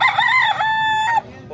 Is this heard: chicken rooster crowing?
yes